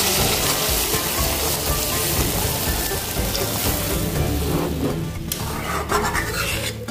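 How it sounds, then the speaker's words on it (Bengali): Water is poured into a pan of sizzling fried spice paste for a Bengali potato and fish curry, giving a loud, steady, close hiss and crackle that rasps on for several seconds before easing slightly. "আমি এর মধ্যে জল দিয়ে দেব।"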